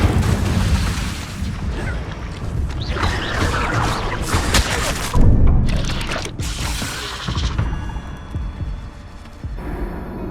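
Incendio fire spell cast repeatedly in Hogwarts Legacy combat, loud booming bursts and crackling blasts layered over dense, continuous game noise, with a heavy impact near the middle.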